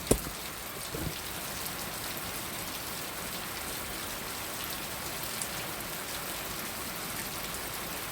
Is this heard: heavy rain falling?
yes